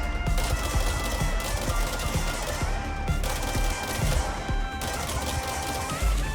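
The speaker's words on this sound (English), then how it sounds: "I do like making him do the machine gun cha-cha" Machine gun fire in the video game Control, with dense, rapid bursts of shots broken by short pauses, heard at moderate loudness with no talk.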